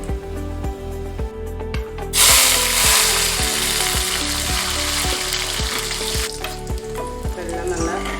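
Ingredients frying in ghee in a pan for ghee rice, a steady close sizzle that swells louder midway, with regular metallic ticking running underneath throughout.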